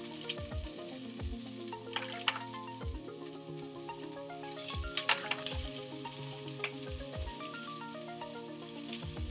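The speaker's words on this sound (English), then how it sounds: "And now we continue to let that sizzle for another 5 minutes." Bitter melon (ampalaya) and tomatoes sizzle steadily in a pan for a Filipino sauté, a soft, continuous crackle with small clinks and pops, heard close and alone at a low level.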